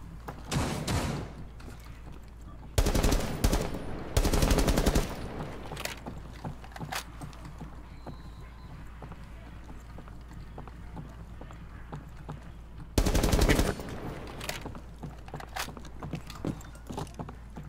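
Mute's shotgun in Rainbow Six Siege on the Favela map fires in several loud, booming blasts, some close together and one later on its own, between quieter stretches of game ambience.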